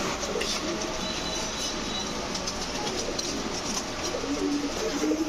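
A female Jharna Shatting pigeon coos softly amid a dense, constant background rumble, the low calls surfacing toward the end.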